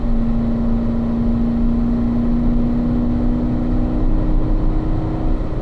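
Car engine pulling steadily under throttle on a race track, a continuous loud drone with a sustained tone and little change in pitch, heard alone without voices.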